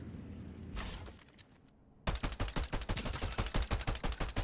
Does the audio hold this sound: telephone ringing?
no